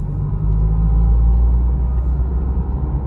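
Car accelerating during a driving lesson, a loud close low engine rumble heard from inside the cabin, steady and continuous with no talk.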